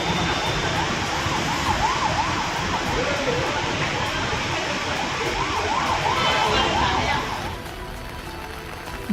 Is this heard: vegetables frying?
no